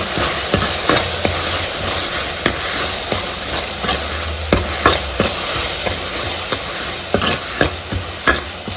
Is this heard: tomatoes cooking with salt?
yes